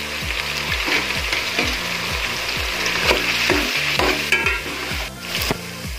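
Tomato paste fries in a pan for chicken achari gosht, giving a continuous close sizzle broken by regular scraping strokes of stirring throughout.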